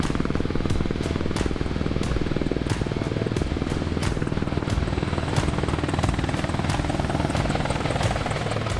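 Apache military attack helicopter flying close and loud, a steady thudding rotor beat with a continuous engine rumble throughout, no voices.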